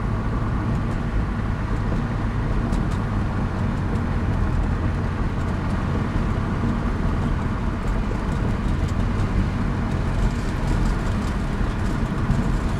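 An old Saab car being driven after a spark plug change, heard from inside as a steady, loud, unbroken engine and road drone with no talking over it.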